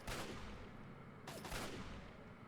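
Turret gunfire in Fallout 3: two loud bursts of shots, one at the very start and another about a second later, each fading into a rumbling tail, close with no talk.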